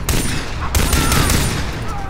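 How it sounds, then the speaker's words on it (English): Gunfire in the shooter game Far Cry 3 crackles in a rapid burst of close, loud shots that blur into a dense volley. "The gun sounds nice."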